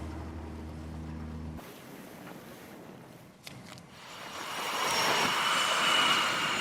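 An F/A-18 Super Hornet fighter jet takes off from the aircraft carrier USS Abraham Lincoln, a broad engine roar that swells into a loud rushing blast over steady wind noise, after an earlier low droning hum cuts off.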